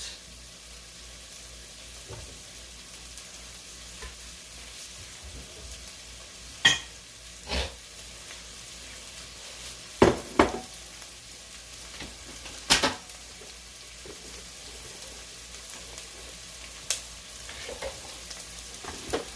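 Sausage sizzles in a pan for a low-carb zuppa toscana, a steady soft crackle and fry heard alone, broken by a few sharp clinks of a utensil against the pan.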